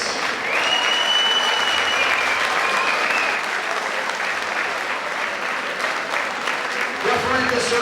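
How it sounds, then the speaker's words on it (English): An audience at an amateur boxing event applauds the two high school fighters after their bout, with a steady wash of clapping and crowd noise while an announcer's voice carries over it. "Round of applause for both of these high school athletes"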